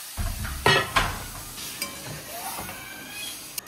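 Dal with drumsticks is tempered in hot oil, a short burst of sizzling with stirring knocks and clinks of a utensil against the pot, fading to a quieter crackle.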